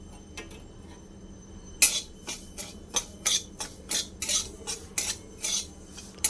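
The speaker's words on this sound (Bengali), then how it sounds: "এবার 1 কাপ সুজি দিলাম, ভালো করে ভেজে নেব।" Semolina roasting in a pan, stirred with a metal spoon: a steady series of sharp scraping clinks, about one or two per second, close and fairly clear over a faint low hum, with no talking.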